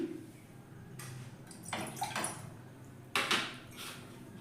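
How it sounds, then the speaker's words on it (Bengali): Water poured from a cup into a metal bowl for tea in a home kitchen, arriving in a few short splashing pours with light clinks of the vessels. "বাটিতে দু কাপ জল নিয়ে নিচ্ছি"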